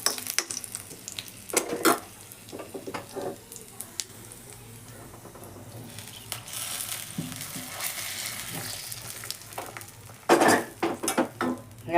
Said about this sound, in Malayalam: തരിക്കഞ്ഞിക്ക് മുന്തിരി അണ്ടിപ്പരിപ്പൊക്കെ നെയ്യിൽ വാട്ടി ഇട്ട് കൊടുക്കാം